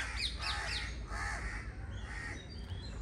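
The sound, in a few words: birds calling, crows cawing in the forest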